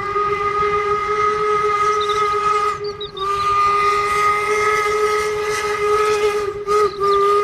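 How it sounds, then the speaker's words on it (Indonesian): A toy locomotive plays a loud, sustained steam-whistle sound effect with a hissing edge, broken by two brief dips partway through. "ternyata ini kereta api lokomotif."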